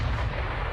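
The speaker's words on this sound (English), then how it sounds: "try to hit that nuclear warhead with some explosive shells from our artillery cannons" Artillery cannon firing explosive shells in the video game RimWorld, a single dull, booming report with a low rumble that holds for under a second, loud and on its own.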